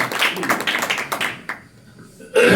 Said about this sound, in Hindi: ताली बजा के स्वागत करेंगे प्रभु के दास को भी